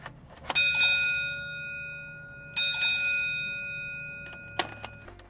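Two bright bell dings ring out, each with a long shimmering decay, separated by about two seconds, with a faint car rumble underneath and a small clink near the end.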